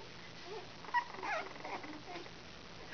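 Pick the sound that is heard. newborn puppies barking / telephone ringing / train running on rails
newborn puppies barking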